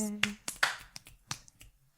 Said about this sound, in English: One clap for us from the peanut gallery